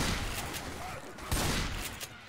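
Rapid gunfire from the zombie shooter game Left 4 Dead 2, dense overlapping shots in quick bursts with a few heavier cracks, loud and continuous throughout.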